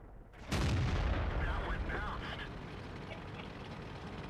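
A Type 59 tank cannon fires in World of Tanks on the Sand River map: a single loud, abrupt shot followed by a long, slowly fading rumble, with a voice talking underneath.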